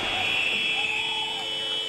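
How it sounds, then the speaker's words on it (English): A sustained electronic buzzer ends the first period of a Poland vs Korea ice hockey game, a steady loud tone ringing through the arena for about two seconds. "The buzzer sounds"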